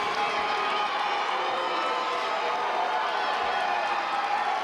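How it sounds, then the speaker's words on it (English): Arena crowd at an MMA-style bout between Alex Sexton and Andrew Huckeby roars steadily after an accidental groin kick, a dense, continuous wall of voices and jeers with no pauses. "The crowd is definitely voicing their opinion of that technique."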